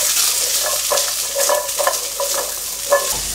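Radish and carrot are stir-fried over high heat, giving a loud, steady sizzle broken by repeated scraping clanks as the vegetables are tossed in the pan.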